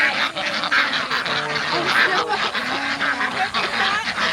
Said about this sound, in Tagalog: Sila po yung local ducks natin.